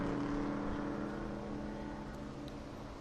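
Race cars climb over a hill on a road course, a continuous dense engine drone held close and loud for a few seconds with no voices.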